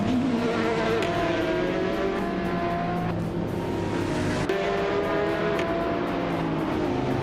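A 2017 Aston Martin Vulcan MR Pro race car in a racing game holds a loud, steady high-revving engine drone with rising and falling pitch as it shifts gears, close and continuous throughout.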